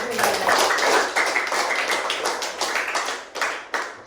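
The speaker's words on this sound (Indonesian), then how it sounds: "Tepuk tangan untuk Ibe." Sixth-grade classmates clap for a pupil in a classroom, sharp scattered hand claps in an uneven burst with voices talking over them.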